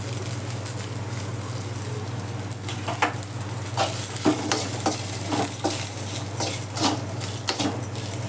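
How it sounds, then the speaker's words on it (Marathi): Grated dry coconut roasting in a pan with coriander seeds, a soft steady sizzle under repeated scraping and tapping of a spoon stirring, growing busier midway. "आता खोबरं टाकते मी हे बघ किसलेलं सुकं खोबरं आहे ते टाकते"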